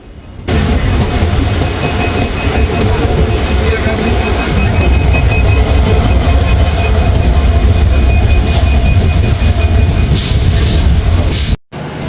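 The Chilahati Express (806) rolls into Joydebpur Junction, heard from on board as a loud, steady rumble of wheels and carriage noise that continues throughout and cuts off abruptly near the end.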